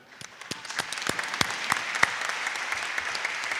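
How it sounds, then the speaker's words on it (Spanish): Applause from an audience at a graduation ceremony honouring a Marist brother, steady dense clapping with sharp individual claps, sustained throughout at moderate distance. "así que pediría un aplauso para el hermano"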